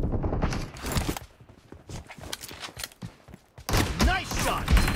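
Shotgun fire in a team deathmatch video game, with sharp blasts and bursts of gunfire mixed with game sounds, close and loud in places, and voices talking over parts of it.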